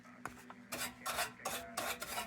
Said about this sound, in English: Now I'll mix up some JB Welded, and we'll finish this.